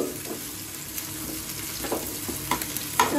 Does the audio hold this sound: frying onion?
yes